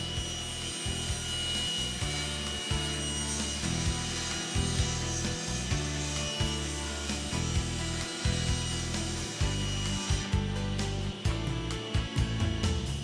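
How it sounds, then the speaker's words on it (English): A power saw cuts through two stacked layers of plywood in a miter box, one long steady pass of rough, rasping wood-cutting noise with a rhythmic low pulsing throughout, loud and close. "Now turn on the saw and remove the waste, making one long smooth pass."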